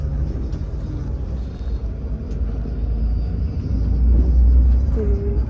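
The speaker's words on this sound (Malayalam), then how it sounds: "നല്ലൊരു ബസ്സായിരുന്നു കേട്ടോ നല്ല വോൾവോ ബസ്സാണ്" A Volvo bus travels the Kullu–Manali road, its engine and tyres making a steady low rumble that swells slightly toward the end, with no talking.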